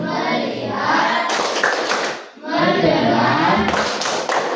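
A classroom of students claps hands together in a rhythmic focus routine, two loud bursts of clapping separated by a short pause, close and dense.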